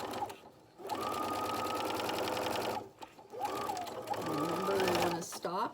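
A sewing machine stitching a zippered coin pouch runs in two steady whirring bursts with a short pause between them for turning a corner. A voice talks over the motor.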